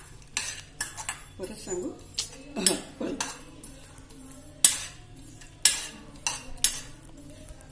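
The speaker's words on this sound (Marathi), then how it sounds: "ओवा आणि लवंग अगदी आपल्याला हलकं भाजून घ्यायचं आहे." Poppy seeds, carom seeds and cloves dry-roast in a pan, with repeated metallic clinks and scrapes of a spoon stirring against the pan and a faint sizzle, plus brief quiet talk.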